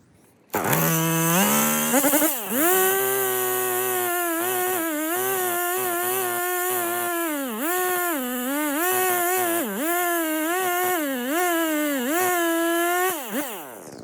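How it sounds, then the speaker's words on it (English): A small chainsaw cuts through a wide tree trunk, its engine screaming at high revs with a sustained, wavering whine that dips and rises as the chain bites into the wood, loud and close throughout. "I broke it up into quarters just because it was a wide tree and this is a small saw"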